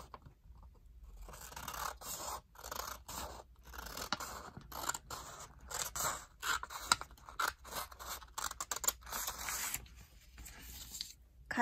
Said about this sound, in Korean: 접은거를가위로잘라볼게요